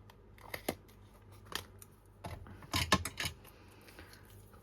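Scissors snip mitered corners on folio paper, with sharp close crunching cuts arriving in short clusters and pauses between, and a few faint paper rustles; no talking.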